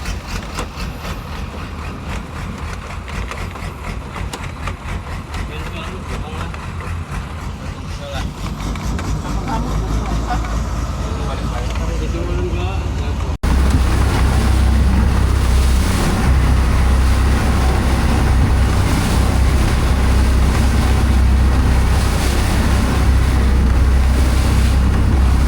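A passenger water taxi's engine droning at sea on the crossing from Banjarmasin toward Pegatan, with rough waves, southeast wind and heavy wind noise buffeting the microphone; the rumble grows louder and fuller partway through.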